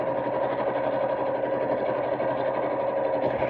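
A sewing machine with a denim needle stitches steadily through an elastic section and layered fabric of a purse organiser craft bag, making a continuous close, even mechanical whir throughout.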